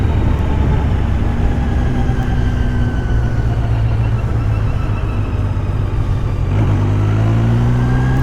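A 2023 Kawasaki Z900 with a GP shift conversion is ridden under light throttle. The engine drone is loud and steady, rising slightly in pitch near the end, with no talking.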